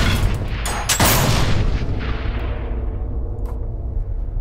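Blowback gun firing in People Playground, several loud booming shots close together in the first second, then a long rumbling decay with a fainter pop later.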